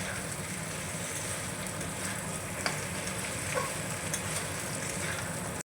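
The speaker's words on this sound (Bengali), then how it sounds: "পটলগুলো দিয়ে আমি নাড়াচাড়া করে ভালো করে আবারও আমি মিশিয়ে দিচ্ছি" Fried pointed gourd is stirred into a frying spice paste in a pan, giving a steady close sizzle and scraping stir with a few small clinks, with no talking.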